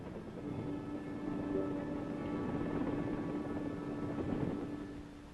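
A Vietnam War-era military helicopter drones steadily at a moderate distance, its low thudding rotor hum and engine whine continuous and fairly faint.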